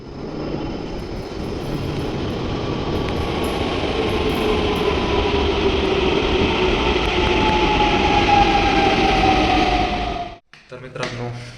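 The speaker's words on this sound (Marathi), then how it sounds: "चला आता मेट्रो येईल." A metro train pulls into a station with a loud, steady rumble and a falling whine as it slows, ending abruptly near the close.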